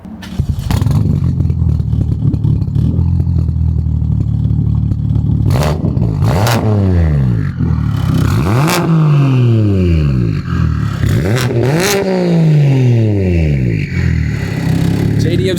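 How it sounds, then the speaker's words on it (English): Single-turbo BMW engine idling with a deep drone, then several sharp throttle blips that swell and fall back, loud and close, with voices talking around it. "Just from those little blips, you can hear the crazy tone difference between the single turbo"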